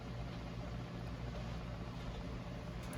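A tumbler cup turner motor spins fast during a Milky Way glitter tumbler project, giving a steady, loud, dense whirring hum with no pauses and no voices.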